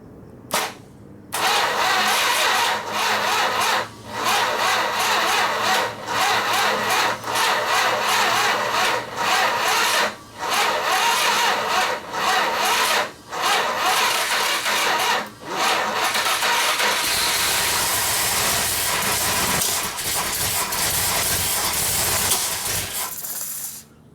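A 383 Dodge V8 in a 1958 Ford F100 pickup cranks and catches, running loudly and roughly for about twenty seconds with brief dips and surges of revving, recorded close.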